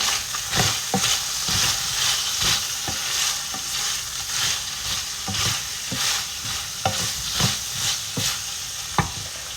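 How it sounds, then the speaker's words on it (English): Steak fajitas sizzle and crackle steadily in a hot pan while lunch cooks, with a dense continuous frying hiss and irregular sharp pops and stirring clatters close by, no talking. "I'm cooking lunch as I'm doing this voiceover, so hopefully you're not hearing that"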